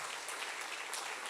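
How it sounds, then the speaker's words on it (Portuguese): A church congregation applauding, a dense continuous patter of many hands heard at a moderate distance and fairly faint, with no speech over it. "Davi, pode aplaudir o teu Deus sim."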